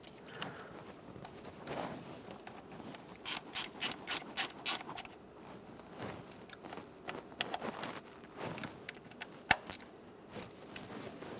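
Ratchet wrench snugging the small bolts on a VVT solenoid of a 2008-2020 Dodge Grand Caravan valve cover, heard as close, bursts of rapid clicking separated by pauses.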